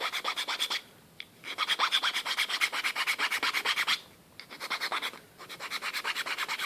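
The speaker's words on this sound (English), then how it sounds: "you take your file, you begin filing down the surface like this." A file rasps back and forth across the rough surface of a paper cartridge in quick, regular strokes, close and clear, with two brief pauses between runs of scraping.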